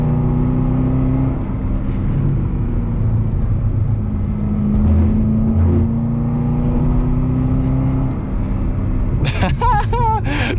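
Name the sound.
car accelerating while driving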